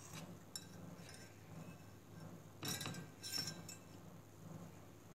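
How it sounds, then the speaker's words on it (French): A whisk or spoon scraping and clinking against a salad bowl while sugar and eggs are mixed, faint rhythmic strokes with a few brighter clinks, quiet and close. "dans un saladier le sucre et les œufs, comme ceci. Mélangez bien le tout"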